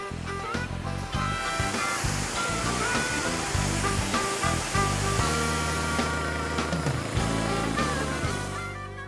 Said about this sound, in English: final cleaning I do with a pressure washer